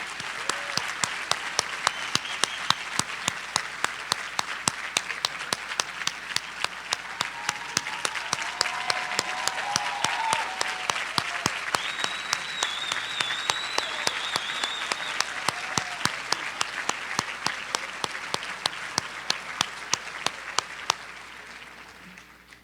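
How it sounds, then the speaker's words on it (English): Sustained applause from a large audience at a high school top seniors recognition ceremony, many hands clapping in a dense, steady roar with a few sharper claps standing out, holding strong for over twenty seconds before tapering off. "Let's give them all another round of applause."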